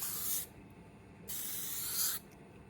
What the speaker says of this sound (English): I'm going to put a very light coat on